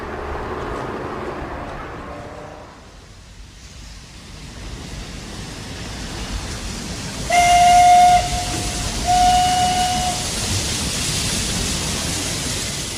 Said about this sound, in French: 4 décembre 1926, un train à vapeur pénètre dans la gare de Dessau.